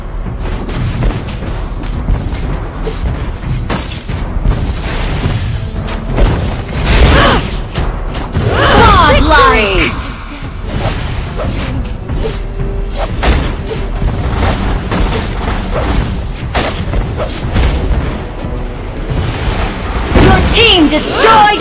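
Turret destruction in the Mobile Legends game, heard as a dense run of booming, artillery-like blasts and mechanical crashes that continue loudly and without a break through the whole stretch of busy game noise.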